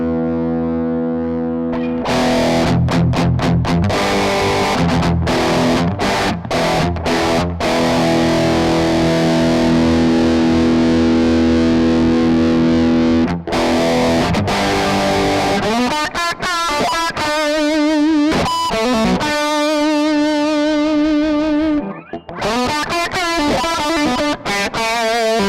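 A heavily distorted electric guitar runs through a stomp box effect on a Kemper Profiling Amp, loud and continuous, with sustained chords, choppy rhythmic stabs and a brief break near the end. No voices.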